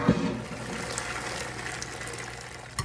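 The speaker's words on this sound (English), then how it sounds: "Put a colander in a larger bowl like this, and we're gonna strain it out." Homemade chicken broth, with its meat and vegetables, is poured through a colander into a larger bowl, making a steady close splashing pour for a few seconds that ends with a faint clink.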